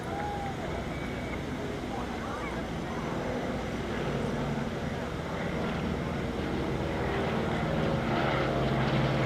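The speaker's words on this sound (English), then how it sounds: "Ladies and gentlemen, the AT-11, the Twin Beech. There it is." A Beechcraft AT-11 Twin Beech passes overhead during a World War II aircraft flyover in Washington D.C., a loud, continuous engine and propeller roar with broad wind-like noise that swells slightly as it approaches.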